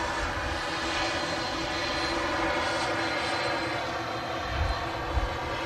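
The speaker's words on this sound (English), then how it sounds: "As the second TUI lines up, heading out to Paphos." TUI airliner at Manchester Airport, a steady broad engine roar held at even loudness throughout, heard from a distance with no voices over it.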